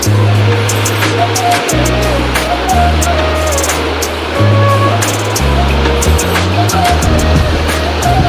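Loud, steady rushing water roars continuously at Keshari Kunda pool in Keonjhar, Odisha, with strong low rumble throughout and occasional higher splashes.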